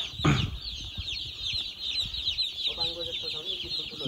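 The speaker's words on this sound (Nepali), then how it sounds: "दाइहरूले 2000 कुखुरा पाल्नु छ" Chickens cluck at a poultry farm of about 2000 birds, a few calls rising toward the end over a steady, high insect-like drone and low background rumble.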